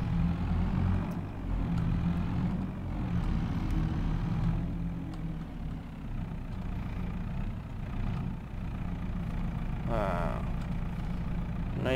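Tractor engine running steadily in a field during canola harvest work, a continuous low rumble throughout with people talking over it.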